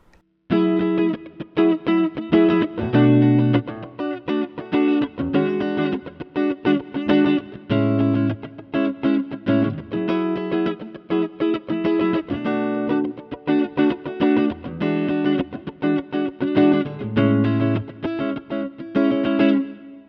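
Clean Ibanez AZES40 electric guitar on its fifth pickup position, strumming chords in a steady rhythm, bright with a slight chorus shimmer, close and alone throughout.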